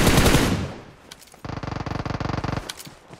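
Gunfire in PUBG Mobile: a loud burst that fades out, then after a short pause a rapid automatic volley of about a dozen evenly spaced shots, close and with no talk over it.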